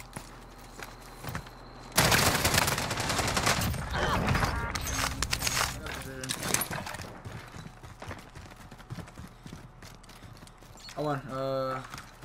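Rapid bursts of gunfire in Call of Duty Warzone (Cold War Warzone) roar loudly from about two seconds on, dense and close, fading into scattered shots and footsteps with voices talking over the action.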